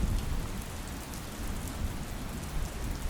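Quiet, steady rain patters on surfaces in an even, soft hiss, with a faint low rumble of distant thunder underneath and no voices.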